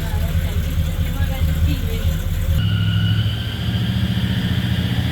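A 1968 Dodge Charger barn find, off the road for sixteen years, runs with a steady low engine rumble close by, its tone shifting slightly midway as it idles.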